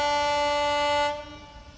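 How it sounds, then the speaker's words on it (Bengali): Kanchan Kanya Express pulling into Barsoi Junction well behind schedule, sounding a steady, loud horn blast for about a second before it drops away into quieter rail background. "অনেকটা লেট করে ঢুকাচ্ছে কাঞ্চনকন্যা এক্সপ্রেস।"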